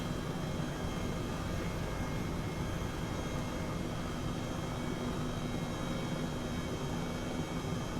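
A helicopter in Microsoft Flight Simulator flies with a continuous, even rotor and turbine roar that holds steady and fairly loud from start to finish, with no talk over it.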